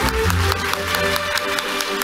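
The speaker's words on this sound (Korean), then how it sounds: "큰 박수로 맞이해 주시기 바랍니다" An audience at the opening ceremony of a Fields Medal commemorative lecture event applauds steadily, with many overlapping claps carried over a lingering musical tone.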